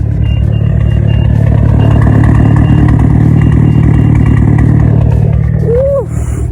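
A Mitsubishi Evo X engine idles loud and close, a steady throbbing rumble that holds evenly, then a voice speaks briefly near the end.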